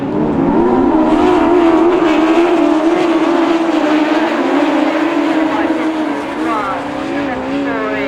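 Class 8 autograss race cars race around a dirt track at St Neots with a loud, continuous engine roar whose pitch rises and shifts as the cars accelerate and pass.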